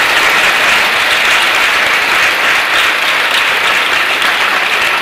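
Students at a school gathering clap together in loud, sustained applause, a dense, even roar of hands with no pauses throughout.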